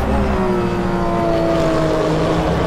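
Porsche 911 RSR GTE racing engine in rFactor 2 at Portimao, a loud, high-pitched screaming whine that holds steady and close, with a slow pitch slide.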